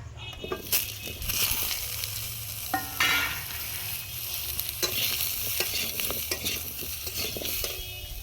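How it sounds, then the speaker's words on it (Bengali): Potatoes, pre-cut and washed, fry in a pan with a steady sizzle while a utensil stirs them, giving scraping clinks and crunchy bursts throughout at close range. "আলুগুলোও ভেজে নেব"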